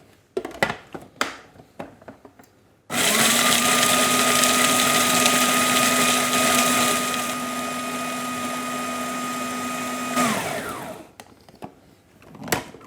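Food processor grinding walnuts, almonds and seeds to a coarse, granola-like texture, a loud steady whirring motor run of about eight seconds with a slight drop partway, bracketed by clattering handling sounds before and after.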